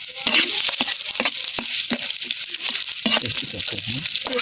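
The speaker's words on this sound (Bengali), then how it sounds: "চিংড়ি মাছ ভাজার জন্য" Prawns sizzle and crackle steadily in hot oil, with sharp clicks and pops throughout, close and loud.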